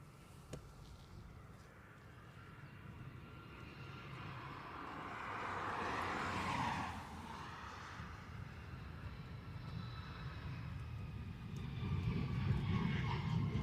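Airliners at Dublin Airport make a distant jet-engine roar that swells to a broad whoosh midway, then settles into a lower rumble that builds again toward the end, with no talk.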